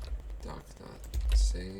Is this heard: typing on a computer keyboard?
yes